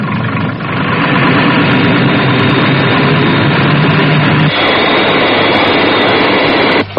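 The Fireflash jet airliner from the Thunderbirds radio drama gives a loud, steady roaring engine drone as it descends toward the runway, with a sudden shift in tone partway through and no voices.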